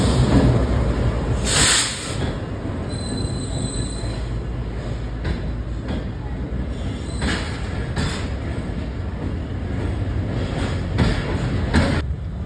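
The Khyber Mail, hauled by locomotive GU409051, rolls through smog at Khanewal junction, Pakistan, with a continuous rumble of rail wagons, hiss and intermittent high wheel squeals and clanks.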